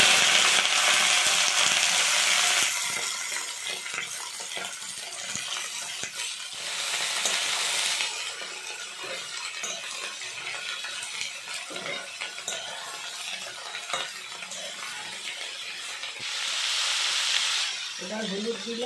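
Shredded cabbage fries in a hot pan with cumin-scented oil, giving a steady close sizzle and hiss broken by repeated scraping and clinking of a spatula as it is stirred, with louder sizzling surges at intervals.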